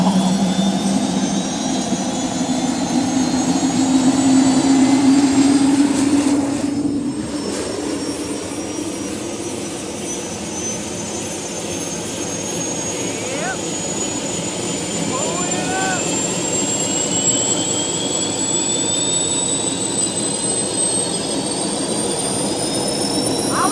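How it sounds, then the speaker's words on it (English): Two jet-like engines running together, a loud sustained roaring whine with a high piercing tone that climbs steadily, plus a brief louder surge early on before a steady, slightly softer drone. "Sounds like a freaking double jet engine"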